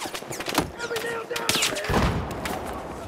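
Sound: gunfire hitting the player in the video game Battlefield 4

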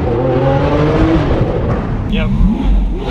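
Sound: Lamborghini Aventador engine revving

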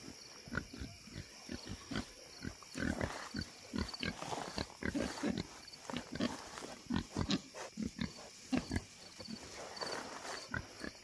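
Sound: pig

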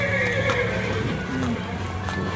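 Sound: horse neighing

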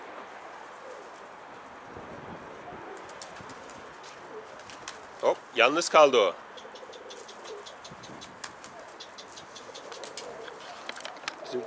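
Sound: birds, likely pigeons, near coop

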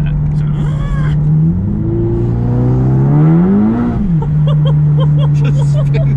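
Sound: 520bhp MK7 Golf GTI revving with wheelspin, traction control

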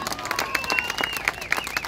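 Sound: crowd applause at a rally

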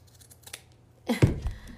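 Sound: scissors cutting jute

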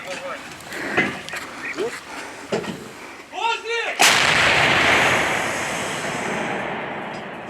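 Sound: artillery gun firing

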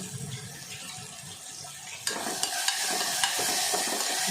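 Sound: ginger garlic sautéing in a pan

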